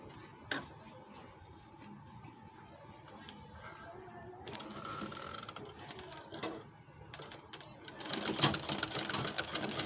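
A sewing machine runs steadily, its rapid mechanical ticking and whirring stitching along an abaya neckline, growing louder and busier toward the end.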